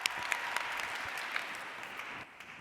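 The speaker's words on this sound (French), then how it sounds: "Un tonnerre d'applaudissements pour le champion de France de slam, Maras." Audience applause for a slam champion at a national eloquence competition final, a dense even patter of clapping that thins slightly near the end, moderately distant.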